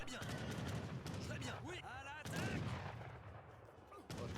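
Musket volleys in the Age of Empires III: Definitive Edition historical battle at Fort Duquesne, a dense crackle of gunfire running nearly continuously at close range, with game voice lines and effects mixed in.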